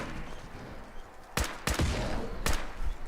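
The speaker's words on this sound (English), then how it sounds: "So here we go, the combat rifle in effect." A combat rifle firing in Fallout 4, three loud sharp shots spaced unevenly over a few seconds against steady game background noise.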